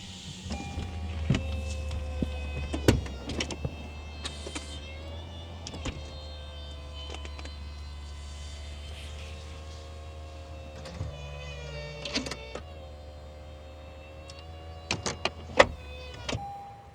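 Power soft top of a 2025 Lexus LC 500 V8 convertible retracting, a steady low electric motor hum with faint whirring and several sharp mechanical clicks and clunks as the roof folds, no talking.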